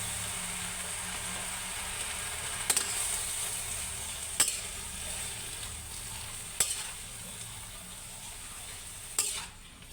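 Kangkong (water spinach) with soy sauce sizzles and fries steadily in a pan, with a few sharp clacks of a utensil stirring against the pan.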